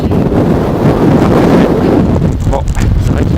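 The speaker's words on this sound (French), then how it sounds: "c'est vrai qu'il y a fort vent aujourd'hui." Loud, unbroken wind buffeting hits a handheld phone microphone outdoors in a new Russian housing district, a dense low roar that surges and dips slightly.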